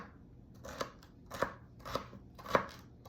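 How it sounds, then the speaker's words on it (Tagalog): A knife slices celery and garlic on a cutting board, four distinct crisp chops spaced roughly half a second apart, close and fairly quiet with no talking. "i-slice na natin sila ang celery at garlic"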